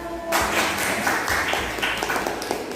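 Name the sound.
class applause for presenting group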